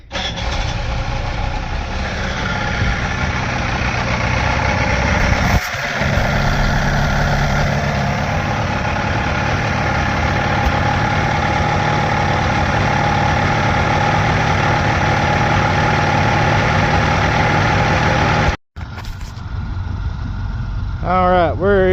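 A 1963 Sea Ray 700 boat engine, just adjusted at the distributor, fires up and runs steadily at a river boat dock, a continuous loud rumble with a brief break near the end and people talking over it.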